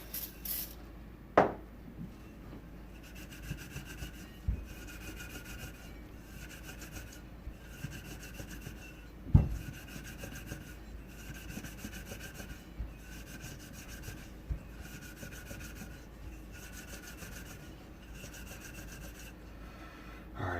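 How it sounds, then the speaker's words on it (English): A cloth rubs over the surfaces of a bell during cleaning, a soft, repeated rhythmic wiping close by, broken by an occasional sharp knock or tap. "Give it one more quick wipe down here."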